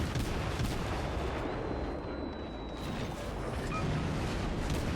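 German cruisers trading naval gunfire in World of Warships, a dense, continuous wash of booming cannon fire and distant impacts with no clear pauses, heard alone without talk.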